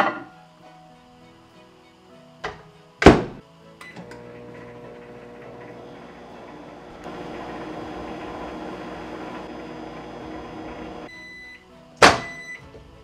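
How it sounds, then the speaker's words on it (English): A microwave oven hums steadily while heating hard slime, opening with door clunks and beeps, its drone thickening midway, and closing with another sharp clunk. "so I tried microwaving it for about a minute"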